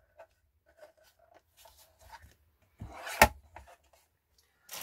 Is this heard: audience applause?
no